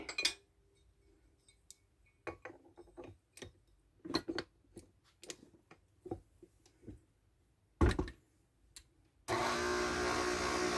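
Dough being mixed with two room-temperature eggs for low carb pita bread in a homestead kitchen: a string of separate clinks and taps of a utensil against a bowl, close and alone, then a steady loud mixer whir at the end.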